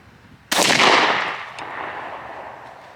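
A Stevens 301 Turkey .410 single-shot shotgun loaded with Federal TSS turkey shot fires one loud, sharp blast at 20 yards, followed by a long decaying echo across an outdoor range.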